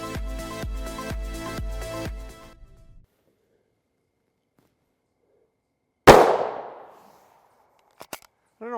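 A single sharp gunshot from a Hellcat pistol firing 9x19mm Underwood +P+ ammunition cracks loudly outdoors in the evening, ringing out and decaying after a stretch of near silence, followed by a few faint clicks.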